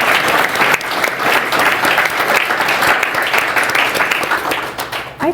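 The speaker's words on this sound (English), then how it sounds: "Can we have a wee round of applause for everybody who has just supported Jan to get us here tonight?" Loud, full audience applause at a book launch celebration, with a dense, steady wash of clapping from a room of people that carries on for several seconds before it starts to ease.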